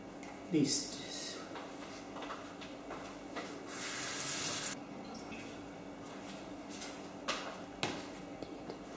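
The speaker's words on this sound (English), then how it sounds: "Now the fruit is first washed." Figs for jam rinsed under a running kitchen tap, a steady hiss of flowing water with small splashes and drips, fairly faint and close.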